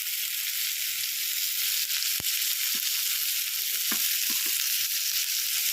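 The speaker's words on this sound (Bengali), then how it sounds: "পেঁয়াজটা দেখুন একটু ভাজা ভাজা হয়ে এসছে।" Onions frying in a pan for a chicken bharta, a close, steady hiss of sizzling oil with a few soft clicks of stirring, no talk.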